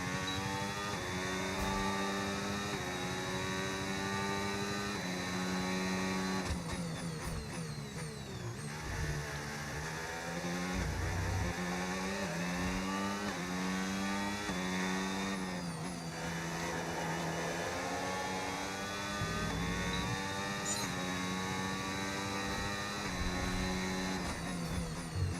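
A Formula 1 car's engine in the F1 25 racing game, a continuous high-pitched whine rising and falling through gear changes and corners, loud and steady throughout with no talk.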